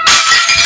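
A ceramic chicken figurine shatters in a single short, sharp crash of breaking pieces, loud and close, with no voices.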